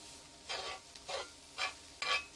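Brisket totchos stirred in a hot, sizzling pan: four distinct scraping, sizzling strokes in a steady rhythm, close and fairly quiet, with near silence between them.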